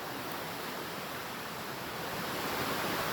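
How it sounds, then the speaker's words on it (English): Floodwater in a creek rushes against hard rocks in a steady, close, full-bodied wash that holds an even level throughout, with no voices over it. "this water here"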